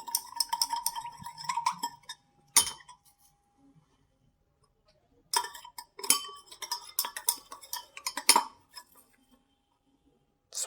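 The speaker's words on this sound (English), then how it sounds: "we keep on adding the salt onto this solution one by one, rather into this solution one by one, and we keep on stirring it as well" A metal spoon stirs salt into a water solution, giving bursts of light clinking and ticking against the container, separated by quiet pauses, close and fairly faint.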